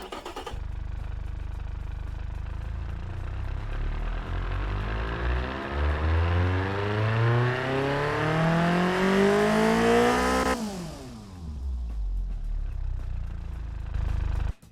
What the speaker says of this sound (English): Good running little engine.